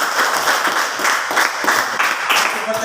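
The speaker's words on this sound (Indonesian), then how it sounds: "tepuk tangan untuk kelompok 4" A classroom of students applauds a group presentation, with dense, even clapping running steadily for a few seconds at close range.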